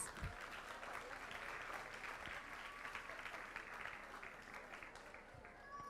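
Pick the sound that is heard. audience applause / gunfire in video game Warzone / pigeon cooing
audience applause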